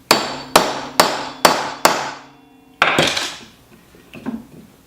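A spur drive center is driven into a wooden blank for a peppermill with five sharp, loud hammer blows in quick succession, followed by a couple of softer knocks and handling noise.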